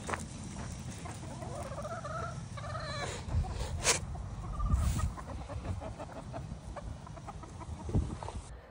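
Farmyard chickens clucking and squawking in a run of close, irregular calls, with a few louder bursts over a soft background.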